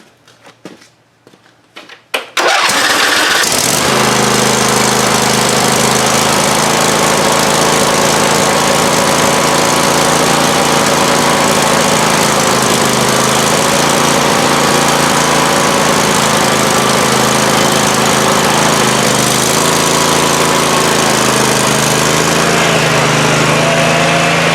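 An old Husqvarna riding mower, rescued after sitting abandoned, cranks briefly with a few sputters, then catches and runs with a loud, steady, close engine drone that holds for the rest of the clip.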